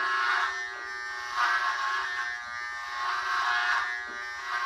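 An electric razor buzzes steadily and close up while shaving a head bald, its motor hum swelling slightly as it moves across the scalp, with no talking.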